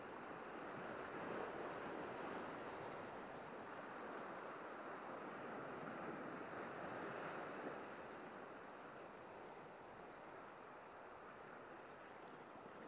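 Heavy sea swell breaks along a wild, rocky fishing coast, a continuous broad wash of surf that stays steady and fairly loud for the whole stretch, with light wind buffeting and no voices.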